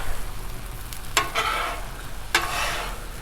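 Chorizo and egg sizzling steadily on a hot Blackstone griddle, with two sharp scraping strokes of a spatula stirring the food across the flat-top.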